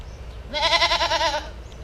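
A baby goat bleats in one long wavering cry, close and fairly loud, outdoors near Sabang in the Philippines.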